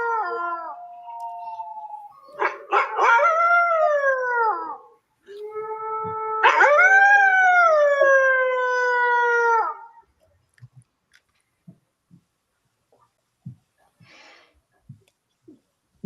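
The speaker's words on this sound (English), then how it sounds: "The haunting sound of wolves howling in the distance fills the room." Wolves howl in the distance, long rising and falling wails layered over one another in two extended bouts, then fading to quiet with a few faint scattered knocks.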